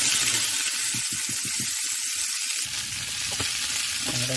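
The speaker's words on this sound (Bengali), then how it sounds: "আমাদের কড়াইটি গরম হয়ে গেছে, এই সামান্য পরিমাণ আমরা তেল দিয়েছি, পরিমাণ মতো আমরা 5 ফোড়ন দিচ্ছি।" Five-spice seeds and green chillies sizzle in hot oil in a wok. Loud frying crackle comes in quick bursts, then settles into a steady hiss with faint stirring clicks.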